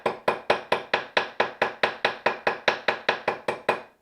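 Cross peen hammer texturing a sterling silver bail: about seventeen sharp, evenly spaced metallic taps in a fast steady rhythm, close and alone with no talking.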